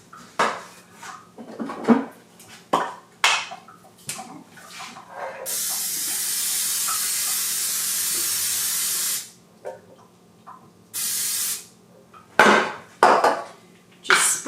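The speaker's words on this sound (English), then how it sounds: "Just sprayed this pan." Cooking spray hisses onto a baking pan in two steady bursts, one long and one shorter, between sharp clanks and knocks of metal pans and utensils nearby.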